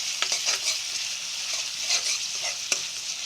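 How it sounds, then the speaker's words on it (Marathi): Onion frying in a pan for a village-style Malvani mushroom curry, a bright continuous sizzle with soft stirring scrapes and a click, close and steady with no voices. "बऱ्याचपैकी कांदा फ्राय झालेला आहे वा छान झाला फ्राय"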